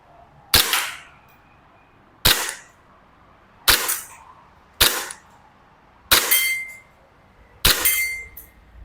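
Six sharp, loud shots from a Bell Glock 17 Gen3 BB pistol fired at a target about two seconds apart, each crack followed by a brief ring, with no talking.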